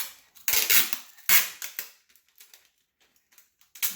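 Clear packing tape is torn off the roll in loud, crackly ripping bursts, followed by fainter sticky crackles and taps, close up with no talk.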